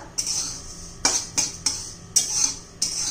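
Flaxseeds roasting in a pan, stirred in about five short scraping sweeps with a gritty, rattling texture, close and isolated, each sweep followed by a brief gap.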